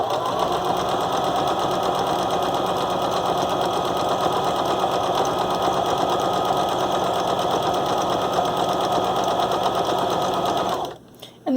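A sewing machine stitches fabric bias-tape mask ties in one long, steady, loud run of rapid needle strokes and motor whir, stopping abruptly near the end; a voice talks faintly beneath it.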